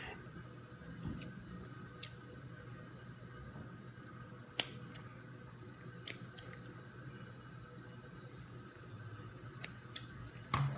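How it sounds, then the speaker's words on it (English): Scissors snip repeatedly at raw turkey necks, trimming loose skin and fat, giving faint, sparse clicks and cuts over a quiet, steady background. "we're gonna start trimming some of this excess skin and fat that's just hanging loose from the"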